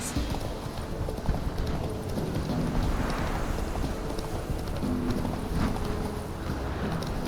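Roach the horse trotting in The Witcher 3, a steady stream of hoof clip-clops over ambient game sound, moderately loud and continuous.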